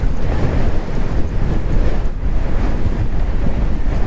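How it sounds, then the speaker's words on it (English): Wind blows hard across the exposed hilltop of Mam Tor, buffeting the microphone with a loud, constant low roar and gusty rumble throughout. "there's a right nice cool breeze blowing on me up here"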